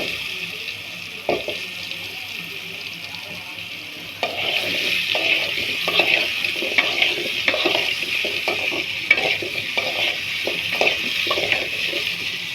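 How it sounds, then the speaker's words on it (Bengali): Potatoes fry in a little hot oil for a mutton curry, giving a steady close sizzle with sharp spoon-on-pan clacks from stirring; the sizzle grows louder partway through. "এটা সামান্য গরম হলে আমি আলু দিয়ে দিচ্ছি।"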